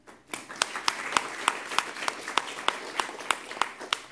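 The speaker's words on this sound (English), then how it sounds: "And a big applause," Audience applause at a philosophy gathering, here a fairly sparse, rhythmic clapping with distinct evenly spaced claps standing out over a light background of other hands.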